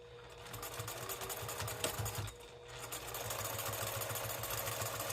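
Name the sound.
sewing machine stitching cork fabric pouch sides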